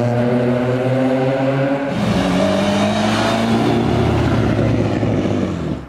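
Privately owned, fairly budget cars rev and accelerate at a street road-race event in town, loud engine tones climbing and shifting pitch as they pull away near the listener.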